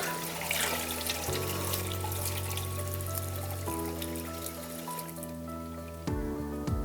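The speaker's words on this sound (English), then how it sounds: "Wash it down with water." Water runs steadily from a tap into a kitchen sink as a degreased item is rinsed, a continuous close splashing wash with shifting tones and no talk.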